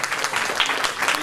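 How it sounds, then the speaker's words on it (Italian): Audience applause at a municipal poetry twinning event in Garessio, Italy, greeting an arriving town councillor; a dense, steady patter of many hands clapping, fairly loud and close, with voices mixed in. "Un applauso al consigliere comunale che sta arrivando."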